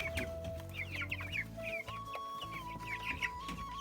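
Farm chickens cluck repeatedly and close by in short, overlapping bursts over a steady low mechanical hum.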